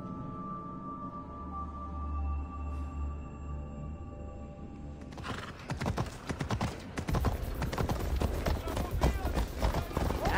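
Horse hooves clip-clop in a rapid, loud running rhythm in Assassin's Creed Odyssey, following a calmer stretch with a sustained tonal hum, and a whinny is heard among the hoofbeats.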